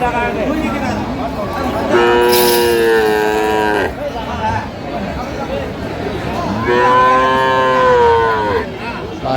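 Cows mooing at a rural cattle market in Bangladesh where dairy cows with calves are traded; two long, loud bellowing moos rise over the steady murmur of a crowd and distant market noise.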